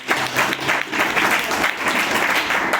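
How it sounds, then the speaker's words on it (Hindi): Audience applause on a Hindi quiz show welcoming a contestant, a loud continuous roar of many hands clapping that holds steady throughout without talk. "एक बार ताली बजा के इनका"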